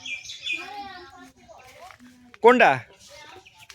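Young chickens peep and chirp in short high calls near the microphone, with a louder squawk later, while a person speaks briefly between them.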